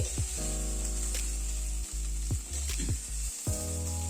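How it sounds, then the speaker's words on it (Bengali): Steady, loud sizzle of new potatoes frying in hot oil in a wok until reddish-brown, broken by a few scraping stirs and clinks of a utensil against the pan. "আলুগুলো লাল করে ভেজে নিলাম।"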